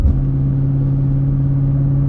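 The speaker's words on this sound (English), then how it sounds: "This exhaust is getting louder, I can tell." Steady low exhaust drone of a car being driven, a continuous rumbling hum that holds at a fairly loud level with no talking.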